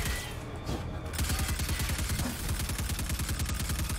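Rapid sustained gunfire fired at a core in the Destiny 2 Sleeper Simulant quest, a dense rhythmic burst of shots after a brief lead-in, loud and close with no talk.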